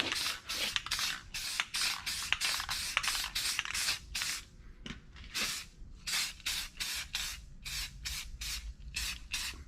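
Aerosol spray can being used to paint a rebuilt car radiator, bolts and rusty, yellowed spots; rapid repeated short hissing bursts, close and fairly loud, with brief pauses between sprays and no talking.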